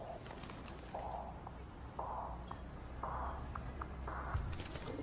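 Bird calls in a video game trailer repeat as four evenly spaced, short cooing bursts, about one per second, over a steady bed of music and background noise.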